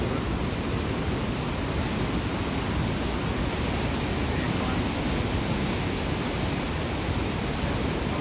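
Vernal Falls in Yosemite roars as a dense, unbroken wash of falling water, loud and close, holding steady the whole time with nothing else rising above it.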